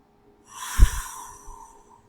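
A single soft exhalation during a guided meditation, a gentle breath out through the nose with a brief snort-like onset, rising and fading over about a second in a quiet room.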